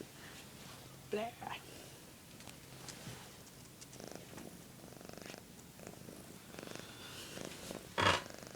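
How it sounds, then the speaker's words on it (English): A sleeping cat snores with a low, purring rasp that holds steady underneath quiet nearby talk, with a few louder bumps along the way. "Stop snoring."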